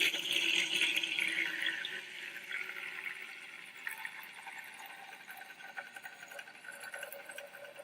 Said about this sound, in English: Using the funnel, you're going to pour in the mixture.